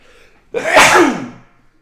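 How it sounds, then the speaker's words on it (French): A single loud sneeze bursts out after a half-second of quiet, ending with a trailing breathy release. "J'ai envie d'éternuer, c'est horrible."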